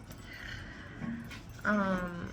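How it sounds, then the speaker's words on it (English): A dog whimpers indoors in a short, thin, high whine that rises near the end, close and moderately loud over quiet room noise. "that was my dog."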